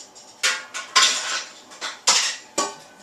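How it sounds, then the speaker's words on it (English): Metal clanks of a lid on a large home-brewing pot used for brew-in-a-bag beer: five or six sharp, ringing knocks and scrapes close up, spaced irregularly over a few seconds, with no talking. "here's my lid for my pan."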